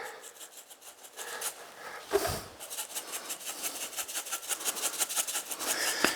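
Hands rub and pat coarse black pepper seasoning into an 8.5 pound brisket in a series of soft, rhythmic rasping strokes. The strokes sound close and moderately quiet, with one heavier thump partway through.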